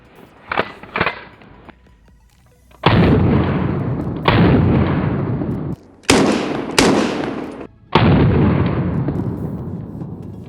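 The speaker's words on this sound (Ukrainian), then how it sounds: "Це для того, щоб дослати патрон в патронник і зробити 6 пострілів." A V19 less-lethal traumatic pistol fires six loud shots with rubber rounds, two sharp cracks at the start and four heavy booming reports at irregular intervals, each followed by a long ringing decay, close and without talk.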